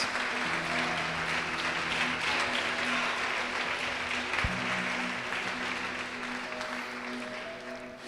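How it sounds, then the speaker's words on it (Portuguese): Sustained applause from a large church congregation, a dense wash of clapping that carries on for several seconds and slowly eases off. "Pode aplaudir e glorificar o Senhor Jesus"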